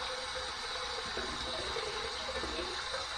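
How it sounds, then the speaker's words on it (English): Water running steadily from a tap, a constant broad hiss and rush without breaks. "We're going to go ahead and heat this up under some hot water."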